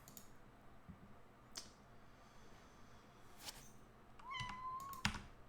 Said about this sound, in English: What do you want, kitty? Do you want to come say hi?